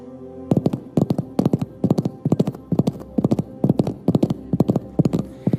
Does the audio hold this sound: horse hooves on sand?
yes